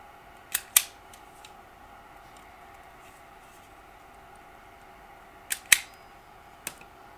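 Old Commodore 64 power supply wire leads are snipped with cutters: two pairs of sharp, close clicks a few seconds apart, then a lighter single snip, against quiet room hum.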